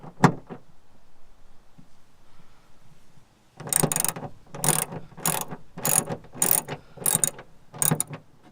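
Ratchet wrench loosening a bolt while working on a Nissan 350Z rear wiper delete: after a quiet start, a run of about eight sharp, rapid ratcheting bursts in a steady rhythm, close and clear.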